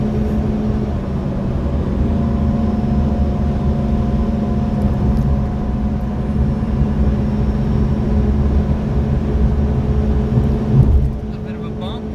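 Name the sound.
Mitsubishi Pajero Mini kei car engine at high RPM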